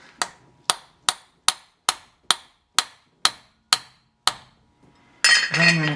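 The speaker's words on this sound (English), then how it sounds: "I'm going to give this a tap to make sure that it's all the way in." A hammer taps a rear axle into place on a 2009 Subaru Forester, ten sharp metallic strikes at a steady rhythm, close and clear, followed by a brief louder rustle.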